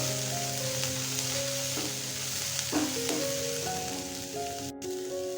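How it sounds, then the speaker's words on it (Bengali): Boiled vegetables are stirred in a frying pan, giving a soft, continuous sizzle with light scraping touches over a steady tonal background hum. "কিছুক্ষণ নাড়াচাড়া করে নেব।"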